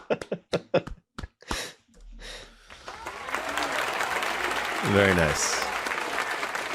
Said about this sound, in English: give yourself a round of applause on that one